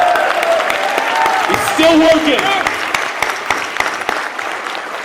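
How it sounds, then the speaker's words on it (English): An audience applauds for Drew, steady clapping from a crowd throughout while someone speaks briefly over it. "The biggest round of applause has to go out to Drew over here"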